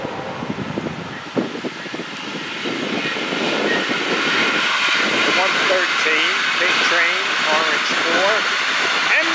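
Southbound passenger train 723 on the Florida East Coast Main Line approaches and passes, a rising roar that swells from a distant rumble to a loud, sustained rush, with someone talking over the start.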